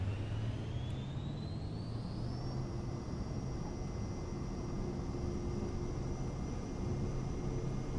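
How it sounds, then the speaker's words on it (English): A G2 aircraft's engines whir and spool up during takeoff, a steady close drone with a rising whine that levels off and holds, with no talk. "We are prepared for takeoff"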